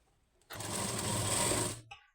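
A sewing machine stitches two blouse lining pieces laid opposite each other, running in one steady close burst of about a second and a half, then stopping with a brief clack, no talking.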